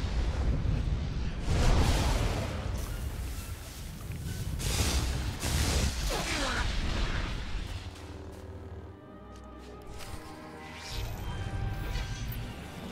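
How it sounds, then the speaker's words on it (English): Sticky grenade detonation in the Star Wars: The Old Republic video game, a loud crashing blast amid a rapid combat mix of whooshes and impacts, fading into softer game sound effects after several seconds, with no talk. "And then hit you with a sticky grenade."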